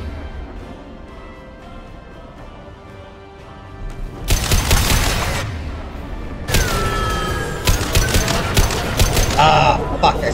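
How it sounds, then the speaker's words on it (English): Bursts of automatic gunfire in the Mass Effect 2 suicide mission as injection tubes are shot, a short volley followed by a longer run of loud, sustained rapid fire with brief gaps. "Shoot the injection tubes."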